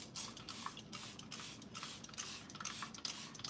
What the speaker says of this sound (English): We're just spraying down.